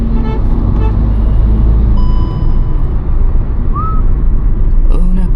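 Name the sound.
road traffic with car horns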